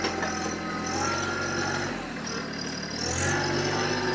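TYM T264 tractor with loader running at idle as its hydraulics work, a steady diesel rumble with a slight dip and rise in engine load, no talk.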